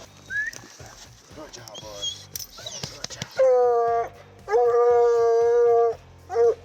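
A hunting dog loosed at night on a raccoon hunt bays in long, drawn-out howls, two sustained calls and a short final one, heard after a stretch of quiet talking and yips.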